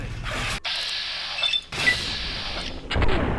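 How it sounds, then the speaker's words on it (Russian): A single gunshot from a firearm in the Fallout New Vegas video game, a sharp loud burst followed by mechanical game sounds and a sustained wash of noise, with no talking. "Первый выстрел."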